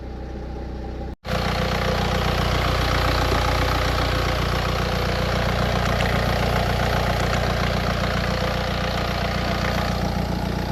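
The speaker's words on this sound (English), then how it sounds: "we're gonna let it warm up until the thermostat opens" After a brief cutout, a BMW car engine idles steadily and loudly at close range while warming up, with the engine warning light on, an even continuous rumble with no talking.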